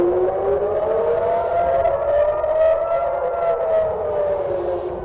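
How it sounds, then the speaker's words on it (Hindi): Air raid sirens wail across Tel Aviv in a long, loud, slowly rising and falling tone that holds steadily throughout, with no voices. "मुख्तलिफ इलाकों में सायरन बज उठे"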